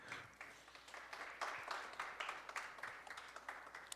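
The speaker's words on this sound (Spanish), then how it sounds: "Dense un aplauso," Church congregation applauding, a fairly soft patter of clapping that comes in rhythmic surges, with several hands striking together in loose unison over about four seconds and no speech on top.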